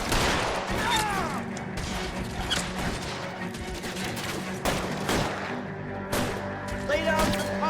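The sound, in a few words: gunfire in L.A. Noire video game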